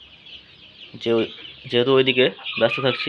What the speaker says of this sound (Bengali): এই হচ্ছে বড় মোরগটা